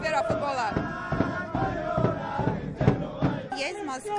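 Chilean football fans on a city street, chanting and cheering loudly in rhythmic shouts with sharp bangs mixed in, close and continuous.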